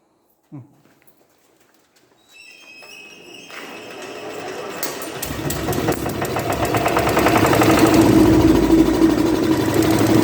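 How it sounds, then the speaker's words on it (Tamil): A single-cylinder diesel engine on a test rig with an electrical load starts up and settles into a steady, loud running chug with a rhythmic low thump, building in volume as it runs. "ஸோ இப்போது இன்ஜின் ஸ்டார்ட் ஆகிடுச்சு."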